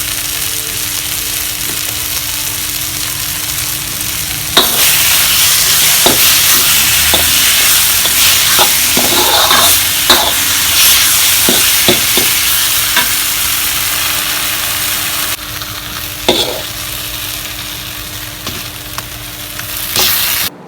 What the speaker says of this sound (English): So add salt and again give a good mix.